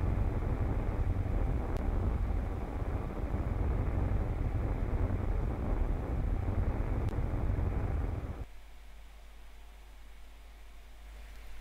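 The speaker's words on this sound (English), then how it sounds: "Light the engines again and burn until your periapsis is around 40 kilometers." Rocket engines burn in Kerbal Space Program as a steady, loud, dense roar that holds for about eight seconds, then cuts off abruptly to a low hum.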